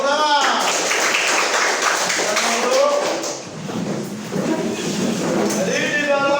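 A class of students clapping their hands together in a classroom, a dense, steady patter of applause lasting several seconds, mixed with young voices chattering.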